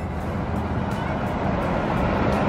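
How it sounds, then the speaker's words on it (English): A truck passes along a road in the small town of Hurricane, Utah, a loud, broad rumble of engine and tire noise that swells steadily as it nears, with no speech. "A truck went by."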